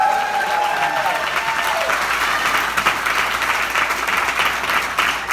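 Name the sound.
comedy club audience applause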